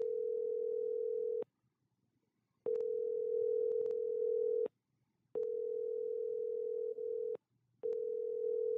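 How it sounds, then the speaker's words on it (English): Telephone ringback tone from a call that goes unanswered: a steady, moderately loud electronic tone repeating in long bursts of about two seconds with short silent gaps between them, no voices. "Pick up the goddamn phone"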